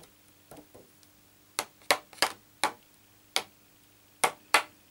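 A card is tapped on its back to shake off loose clear embossing powder, giving about ten sharp, close taps in irregular clusters separated by quiet pauses.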